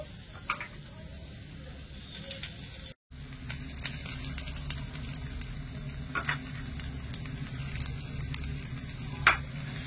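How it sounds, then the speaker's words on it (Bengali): Peeled, boiled potatoes are mashed by hand into spices frying in a pan for a dosa potato masala, giving a continuous close sizzle with soft squishing, stirring and scattered clicks, and a brief dropout early on. "এবারে আলুগুলো একটুখানি ম্যাশ করে দিয়ে দেব হাত দিয়ে"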